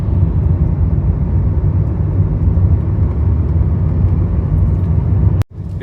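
A lorry, likely waiting to haul tea leaves, rumbles steadily on a narrow hill road between Thalanar Waterfalls and Valparai, its engine noise low and continuous, cut off abruptly near the end.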